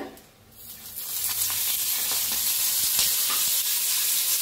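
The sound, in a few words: peanuts, garlic and green chilies roasting in oil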